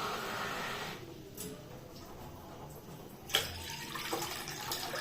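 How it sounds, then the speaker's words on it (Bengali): Water poured from a mug into a pan for boiling veg hakka noodles, a soft rushing splash that runs for about two seconds, then a sharper clink and a few faint drips. "তো এবার আমি এর মধ্যে দেব হচ্ছে জল।"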